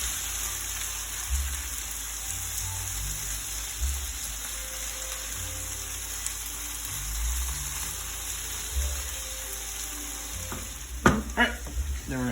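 Tomatoes being stirred into a pan of frying egg curry, a steady sizzle with soft scraping stir strokes throughout and a few louder clatters near the end.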